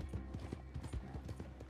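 Horse hooves clip-clop in a steady trotting rhythm in Red Dead Redemption 2, a western video game, with repeated close, moderately loud hoof strikes over a low ambient rumble.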